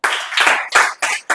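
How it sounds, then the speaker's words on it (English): A group claps hands together in a classroom during a public speaking activity at an English institute. There are four or five loud, sharp bursts of applause, each separated by a brief pause. "So clap again."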